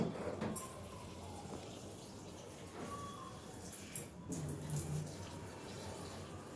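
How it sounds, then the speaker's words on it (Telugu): Water streams steadily into fenugreek-leaf dal in a cooking pot, a faint, continuous trickling pour with a few small splashes, close by. "వాటర్ పడుతున్నాను. వాటర్ ఎంత కావాలో అంత పడతాను, పోస్తాను."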